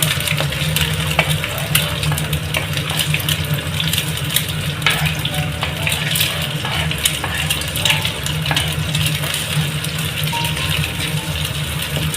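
Beaten eggs sizzling in a pan for chicken fried rice, a steady close frying hiss with occasional scraping and rattling of a utensil against the pan.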